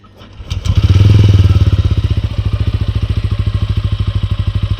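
A TVS Ronin 225 motorcycle cranks on its electric self-starter and fires up. It settles into a loud, even, rhythmic idle close by.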